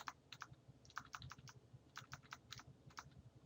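Typing on a computer keyboard while entering a formula into a spreadsheet, quick irregular clusters of key clicks in short bursts, close and fairly quiet, with no talk.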